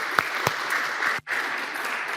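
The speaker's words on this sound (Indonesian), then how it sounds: "Saya mau kita tepuk tangan." Steady applause from a church congregation at a worship service, a dense continuous patter of clapping with a few sharper claps standing out, briefly dipping near the end before resuming.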